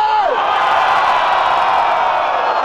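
At the Batalha da Aldeia rap battle, the audience cheers and whoops for the rapper Zuluzão in a loud, sustained roar, with a brief voice cutting in at the very start.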